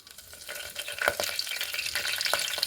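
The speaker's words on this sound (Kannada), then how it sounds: "ಕುಕ್ಕರ್ಗೆ ಸ್ವಲ್ಪ ಎಣ್ಣೆ ಬಿಸಿ ಆದಮೇಲೆ ಸ್ವಲ್ಪ ಲವಂಗ, ಪಲಾವ್ ಎಲೆ, ಜೀರಿಗೆ ಮತ್ತು ಸಾಸಿವೆ ಹಾಕಿ" Cloves, bay leaf, cumin and mustard seeds sizzling in hot oil in a pressure cooker, a steady close crackle with scattered sharp pops and spatters, no voices.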